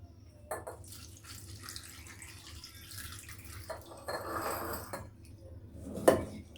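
Water runs from a tap into a pot while cooking long soup in a Hong Kong kitchen, a soft steady splash swelling midway, with a clank of the pot near the end.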